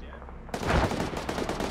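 Incoming indirect artillery fire in the Arma 3 military simulation, a sudden loud explosive burst after near silence, followed by rumbling, crackling gunfire-like reports and echoing debris.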